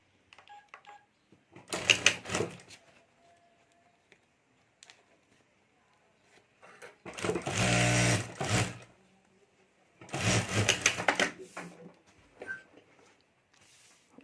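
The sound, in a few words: sewing machine stitching fabric of a bag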